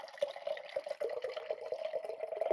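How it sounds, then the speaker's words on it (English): Liquid Death water pours into an empty kettle for pour-over coffee, a close, steady trickling stream with a ringing tone as the vessel begins to fill. "I'm just going to add this water in."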